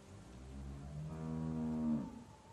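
A cow in Telltale's The Walking Dead game gives one long, drawn-out moo that rises and swells toward the end, loud and close, with no talk over it.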